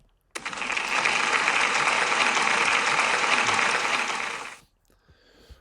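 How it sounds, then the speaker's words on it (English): Applause at a school celebration assembly, bursting in abruptly, holding as a dense, loud patter of many hands for about four seconds, then stopping sharply into near quiet. "Big round of applause, please."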